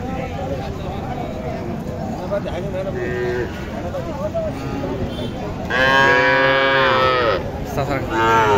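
Cattle moo loudly and repeatedly at a busy Bangladeshi cattle market, with long drawn-out calls rising over constant crowd chatter and nearby voices haggling.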